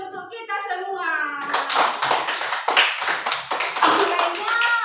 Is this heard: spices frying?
no